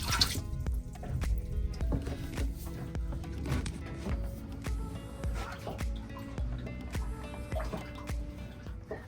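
Water drips and splashes close by in a new catamaran's engine bay, with irregular trickles and squishy wringing sounds as water is bailed with a bucket and sponge.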